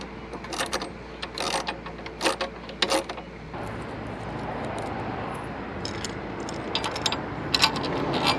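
Tightening an upper luggage-rack bolt while fitting Lone Rider Moto Bags to a Honda Africa Twin motorcycle: bursts of quick ratchet clicking in the first few seconds, then steady handling noise and light clicks, close by with no talk.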